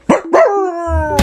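A voice imitates a dog, giving two quick barks followed by a drawn-out howl, loud and close, with a short burst of noise at the end.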